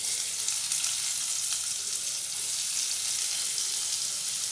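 Chopped onion frying in a pan of oil for moong dal gives a steady, close hiss of sizzling across the whole stretch, even and unbroken, with no voices.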